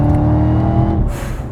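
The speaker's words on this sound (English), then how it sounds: "So you can really hear that supercharger from inside the car." Supercharged 6.2-liter V8 of a 2020 Chevy Camaro ZL1 1LE revving loudly as heard from inside the car, a dense steady engine drone with supercharger whine that eases off slightly near the end.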